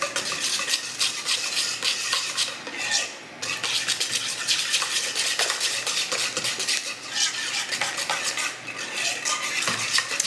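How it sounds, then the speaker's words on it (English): Wet banana bread batter being mixed in a bowl with a Danish dough whisk, giving a steady, continuous scraping and sloshing stir with rhythmic clinks against the bowl, close and fairly loud, without talk. "So we're just gonna mix those dry or wet ingredients together."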